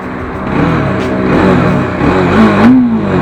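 A Bajaj Dominar 400 motorcycle engine revs steadily and loud, the pitch rising and falling as the throttle opens during a ride, with a couple of sharper climbs near the end.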